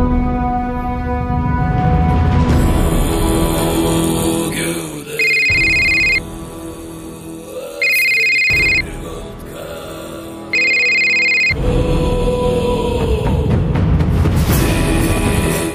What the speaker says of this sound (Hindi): पांडे को फोन लगा